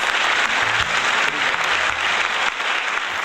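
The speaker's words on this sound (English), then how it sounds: "please welcome him with a warm applause." Audience at a film carnival in Hyderabad's Ramoji Film City applauds to welcome a speaker, dense sustained clapping throughout with low background music underneath.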